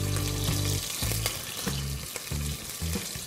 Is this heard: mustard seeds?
yes